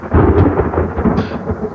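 Thunderstorm sound effect with a heavy, sustained rumble of thunder under a wash of rain, loud and close for its whole short length.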